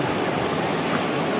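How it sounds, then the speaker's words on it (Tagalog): Tap water runs steadily and loudly as taro leaves are washed, a continuous close rushing splash with no pauses and no talk. "Nuhugasan muna natin yung ating dahon ng gabi"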